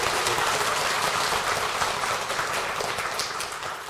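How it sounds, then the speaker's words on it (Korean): A crowd claps steadily at a Won Buddhist dharma service in a dense, even wash of applause that tapers slightly at the end. "큰 박수 한번"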